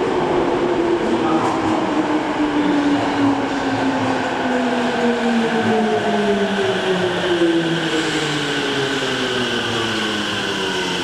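A Tokyo Metro Tozai Line subway train pulls into Toyocho Station with a loud, steady roar, its pitch sliding downward as it slows.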